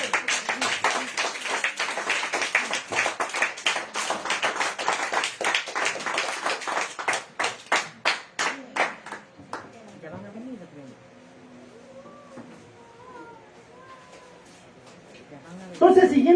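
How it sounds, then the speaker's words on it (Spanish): A church congregation claps during a Spanish-language sermon, many hands slapping in a quick, loud run that thins out and fades after about nine seconds, leaving a quiet room before a voice starts talking. "Denle aplausos al Señor."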